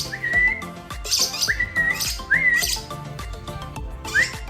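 Hand-reared parrot chicks being force hand-fed give repeated loud rising squawks and chirps in a rhythmic series of four or five calls, close and clear, with no talking.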